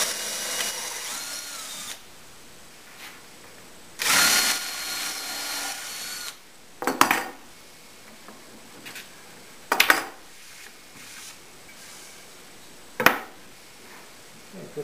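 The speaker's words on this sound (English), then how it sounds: "use the bottom glide as a template for drilling the holes through the plywood" A power drill whirs in several short bursts drilling holes through plywood, with pauses between them and light clatter in the gaps.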